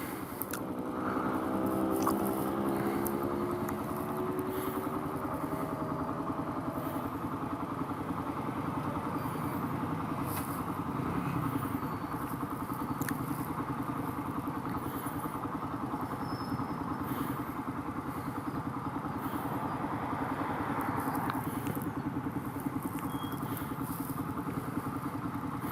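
A motorcycle engine idles steadily and then pulls away, with a continuous mid-pitched engine drone throughout the long stretch, moderately loud with some clatter over it.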